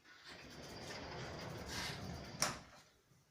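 Drawer sliding open in a luxury apartment kitchen, a soft rumbling slide that swells and ends in a sharp knock as it stops, close by and without voices.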